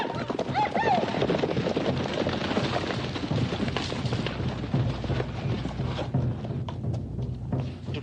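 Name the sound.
horses clip-clopping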